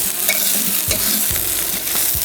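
Garlic sizzles and crackles in hot oil in a pan with onions and ginger, with steady frying hiss and a few clicks of stirring throughout.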